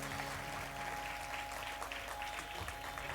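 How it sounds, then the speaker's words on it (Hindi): Audience applause at a welcome ceremony, a dense, steady patter of many hands clapping together, sustained evenly over a constant background hum. "जोरदार तालियां बजती रहे"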